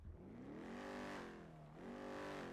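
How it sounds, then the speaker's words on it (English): A car engine in GTA V on the NoPixel roleplay server revs steadily under acceleration, a close, continuous tone rising and dipping as the gears shift, with no talk over it. "Look at the car like settle when I accelerate."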